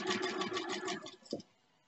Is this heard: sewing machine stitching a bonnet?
yes